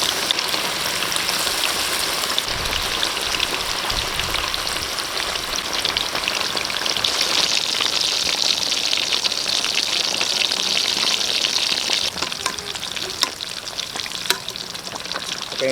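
Kiamoy-marinated pork chop fries in hot oil, giving a loud, continuous sizzle and crackle that holds steady throughout with occasional pops and stirring, and no talk over it.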